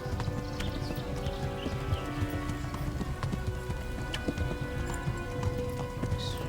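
Horse galloping in the video game Kingdom Come: Deliverance, a steady rapid clip-clop of hooves running on and on under ambient game sound, fairly close and even in loudness throughout.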